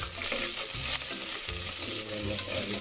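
Ginger, garlic and green chilli sizzling and frying in a pan for mutton biriyani, a close continuous hiss with scraping stir strokes and light metallic clinks, no voices.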